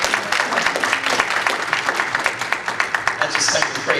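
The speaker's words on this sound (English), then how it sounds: "Let's give Sister Smith a hand clap of praise." Church congregation claps a rhythmic hand clap of praise, steady evenly spaced beats with voices mingling underneath at a moderate distance.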